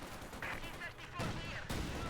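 In the Company of Heroes 2 strategy game, tank cannon fire from a Soviet T-54 booms in a couple of short heavy blasts amid battle noise, while a caster talks over it.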